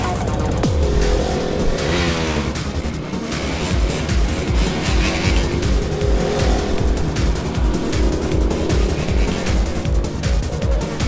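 A motorbike speeds along in a race during an action film scene. Its engine roars loud and continuous with rising revs and brief tire squeals, and no voices come through.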